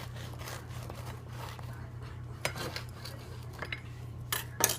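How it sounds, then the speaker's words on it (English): A knife saws through a loaf of white bread baked in a Zojirushi BB-PAC20 Home Bakery Virtuoso bread maker. Soft, faint slicing strokes sit over a low steady hum. "I'll just cut a slice just to show you how nice this bread just cuts."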